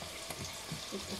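Food frying in hot oil during Filipino home cooking gives a steady, close sizzle and crackle with soft bubbling pops, heard alone without talk.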